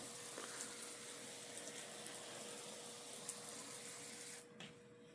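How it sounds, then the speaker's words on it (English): Potted autoflower plants being watered until runoff appears, a steady faint stream of water hissing into soil, stopping near the end. "I'm watering them now until I see water coming out the bottom."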